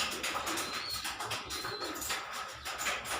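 A batch of pigeons coos softly at close range, with low burbling calls overlapping and some faint higher chirps, without talk.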